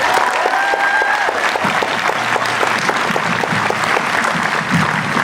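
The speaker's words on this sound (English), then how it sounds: "One last round of applause for all the organizers." An audience at The Black Perspective march gives the organizers a loud, steady round of applause, dense clapping that carries on throughout without a break.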